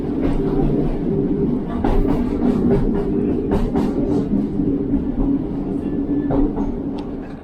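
A train on the Looe Valley branch line in Cornwall rumbles steadily along the track, with wheel clatter and occasional sharp squeals and clicks from the rails.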